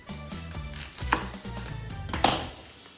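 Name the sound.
knife cutting the top and bottom off an onion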